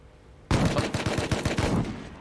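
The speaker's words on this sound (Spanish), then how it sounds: "Con escopeta me ha tirado uno" Shotgun blast in the survival video game Rust, one sudden loud burst followed by a rapid rattling string of impacts that fades after about two seconds.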